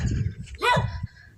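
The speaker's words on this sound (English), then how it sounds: "Hi, puppy." Puppy giving a single short, high yip-like bark, close and clear, with low rumbling background noise around it.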